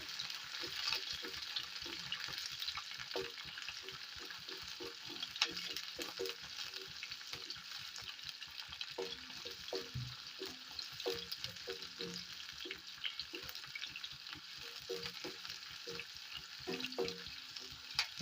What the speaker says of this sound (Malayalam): ചുവന്നുള്ളി ഇട്ട് കൊടുക്കാം. അതൊന്ന് വഴറ്റി കൊടുക്കാം.